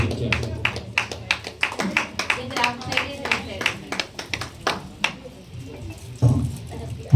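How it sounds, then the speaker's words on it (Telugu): Audience clapping comes in uneven bursts of sharp, distinct hand claps from a modest group, with a voice speaking over parts of it. "అందరు చప్పట్లు కొడతాం ఒకసారి."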